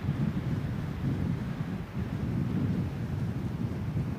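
Strong wind sweeps across an exposed golf course near water during a college golf championship round, producing a steady low buffeting roar against the microphone with no voices.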